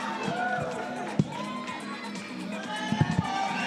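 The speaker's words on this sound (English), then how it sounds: "The crowd in full voice." Crowd at the Australian Open tennis final cheering in full voice after Madison Keys' win, a loud roar with shouts and a few claps, mixed with nearby voices talking over it.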